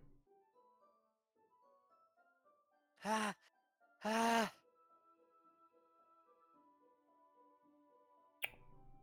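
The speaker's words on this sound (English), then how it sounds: "A sharp inhale like someone is sucking the air through their teeth." In the video game Doki Doki Literature Club, two sharp, hissing inhales drawn through teeth sound close and loud over quiet background music, followed later by a brief click.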